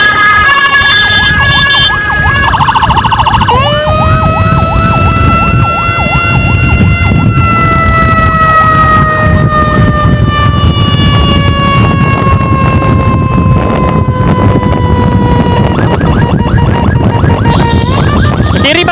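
An emergency ambulance siren wails loud and close in heavy street traffic, its long sweeping tone sliding slowly downward and looping without a break, with a harsher electronic pattern cutting in near the start and end.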